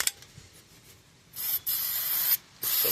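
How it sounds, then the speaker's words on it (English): Fluid Film rust inhibitor hisses from a spray can onto car brakes in three close, loud bursts, the last two longer, after a quiet start. "I am just going to start by putting a little fluid film on the back here just to keep it from rusting in place"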